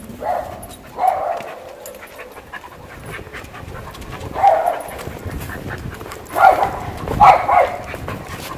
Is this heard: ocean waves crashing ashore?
no